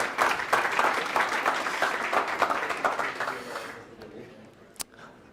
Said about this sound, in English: Round of applause for that last session.